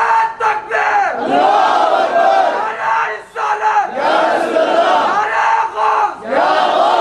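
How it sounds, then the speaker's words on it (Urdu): A large crowd at a Milad-un-Nabi religious gathering chants religious slogans loudly in unison, in rhythmic surging bursts with short pauses between the shouts. "ایک نعرہ مجھے اسٹیج سے نہیں چاہیے، عوام سے چاہیے"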